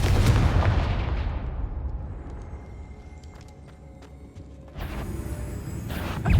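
Booming spell blast in the Hogwarts Legacy video game during a boss battle, a loud deep explosion decaying over several seconds, followed by a burst of bright crackling game effects.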